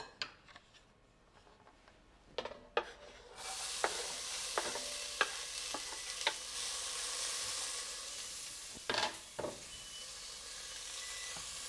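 Celery hits a hot pot of oil for gumbo, bursting into a loud, steady sizzle after a few clacks and stirs, with scraping and clinking punctuating the continuous frying hiss.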